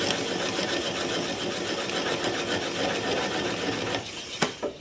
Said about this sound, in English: I'm just going to apply the bevel of the gouge against the bottom of the bowl